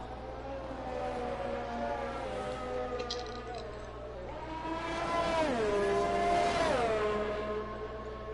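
An F1 car engine screams through a qualifying lap in the F1 2019 racing game, its high whine climbing and dropping through gearshifts and swelling louder and brighter toward the end, with no talk.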